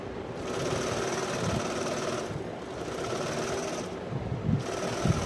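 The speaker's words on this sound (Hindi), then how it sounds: "ये मैंने रिवर्स साइड चलाई है क्योंकि मजबूती से जो कपड़ा सिल जाता है" A sewing machine runs steadily while reverse-stitching cloth for palazzo pants, giving a continuous close mechanical whir with slight rhythmic variations and no pauses.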